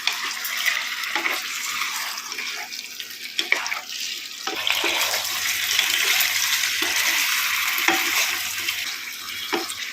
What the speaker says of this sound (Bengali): হাই ফ্লেমে প্রায় তিন চার মিনিট ধরে এটাকে নাড়াচাড়া করে ভেজে নিচ্ছি